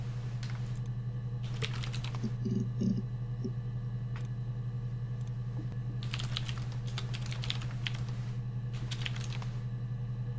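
Bursts of rapid clicky keyboard typing in a video game, over a steady electronic hum, with a few soft tonal blips in between.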